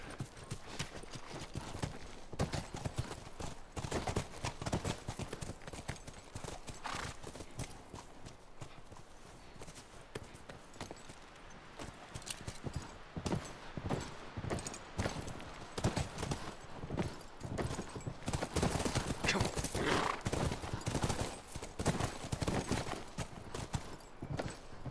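Horse hooves clip-clop in the video game The Last of Us Remastered, a steady stream of close, loud hoofbeats with a faint whinny, continuing for the whole stretch without speech.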